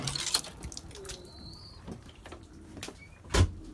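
Pet birds, likely pigeons, shuffle in a snow-flooded coop, giving a few soft coos and brief calls over scattered knocks and rustles, with one sharper thump near the end.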